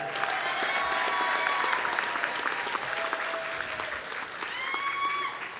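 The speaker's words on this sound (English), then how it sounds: "Let's give them another round of applause on today." A crowd at a high school graduation ceremony for Mickey Leland College Preparatory Academy applauds steadily. The clapping is loud and continuous, with cheers and whoops rising above it.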